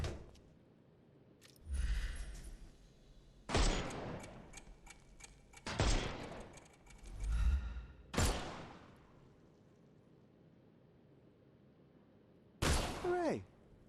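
Sharp gunshots crack at intervals in Sherlock Holmes Chapter One, about five or six distinct reports with low thuds and quiet pauses between them, a voice briefly audible.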